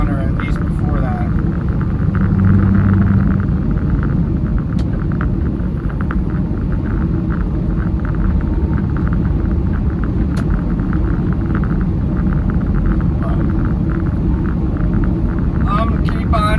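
Steady, loud wind rumble and road roar inside a vehicle towing a Featherlite trailer across windy Wyoming, continuous throughout with a voice talking over it.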